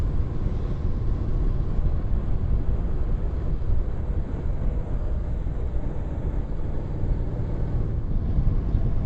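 An NC motorcycle cruises in fifth gear along a mountain road, a steady close engine drone blended with heavy wind rush that holds unbroken throughout.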